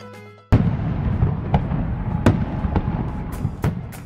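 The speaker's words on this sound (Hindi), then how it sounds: "चलो पटाखे फोड़ते हैं।" Firecrackers bursting outdoors at a celebration, a sudden loud blast followed by a dense run of sharp pops and crackles with several distinct bangs through the rest.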